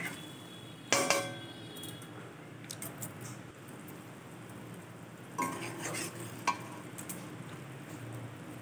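Spicy gravy with fried bele fish simmers in a pan, a soft steady bubbling broken by a couple of sharp clinks of a spoon against the pan and brief scraping stirs.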